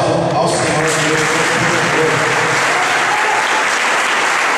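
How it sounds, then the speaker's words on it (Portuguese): Loud, close congregational applause during a church service, a dense continuous roar of clapping with voices calling out and shouting underneath throughout. "Então dê um aplauso ao Senhor Deus."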